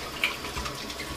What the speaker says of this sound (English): Let's get some cold water going